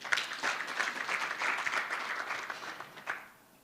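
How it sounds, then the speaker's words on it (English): Conference audience at a mental health and addiction event claps together for a speaker, a moderately quiet, even patter of many hands lasting a few seconds before tapering off at the end. "Clap to him, please."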